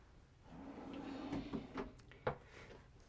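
Quiet wooden drawers slide open and shut inside a 2024 Newmar Essex 4595 motorhome, with soft scraping followed by a couple of light knocks as they close.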